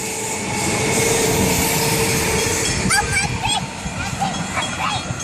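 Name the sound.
train passing by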